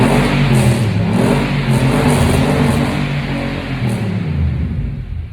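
A Nissan Y62 Patrol revs hard through its aftermarket exhaust, giving a loud, close, continuous engine roar that surges and eases a few times and settles slightly near the end, with no talking.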